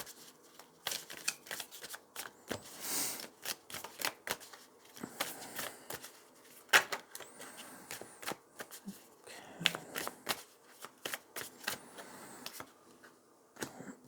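Tarot cards shuffled by hand in a quiet room, a series of crisp riffling bursts and sharp flicks and taps at close range, coming in irregular clusters with brief pauses between.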